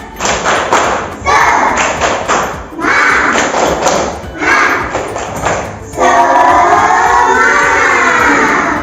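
Schoolchildren in a classroom perform the rhythmic spirit clap chant, bursts of group clapping and thumping alternating with shouted chanting, ending in a loud sustained cheer of young voices.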